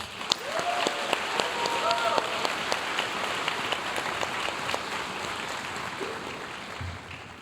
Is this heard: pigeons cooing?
no